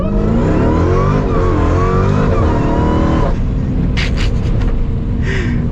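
A 700-horsepower Jeep Grand Cherokee Trackhawk engine roars loudly up through the gears under hard acceleration, then drops off abruptly into a lower rumble with a few brief higher bursts, heard from close by without talk.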